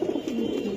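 A racer pigeon gives a soft, low throaty coo, close by and brief, against a faint background hum.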